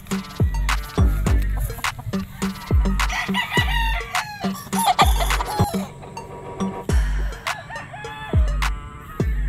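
Gamefowl roosters at a game farm crow repeatedly nearby, with clucking between the calls and several birds overlapping in loud, irregular bursts.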